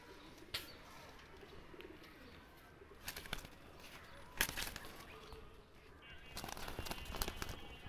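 Two young Teddy pigeon chicks with Alif-type beaks, let loose, give scattered soft coos and flutters, broken by a few sharp close clicks and rustles over a faint buzzing background.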